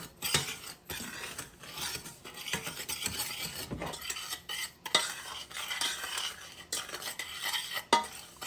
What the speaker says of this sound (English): I'm just going to kind of mix that together here in my pan